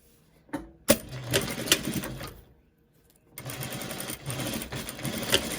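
A sewing machine stitches a fabric face mask, running cream thread on top and green below, in two bursts of fast mechanical whirring and clatter separated by a short pause, close and fairly quiet.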